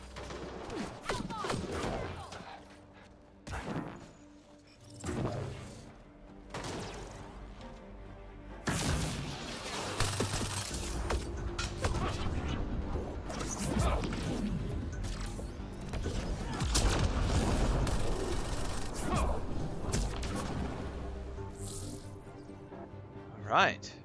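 Sniper fire in a Mass Effect: Andromeda firefight, scattered loud cracks and thuds spread through a noisy battle, with someone talking over much of it.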